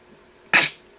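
A single sharp sneeze bursts out loud and close, with a quick tail fading over about a quarter second, alone against a quiet background.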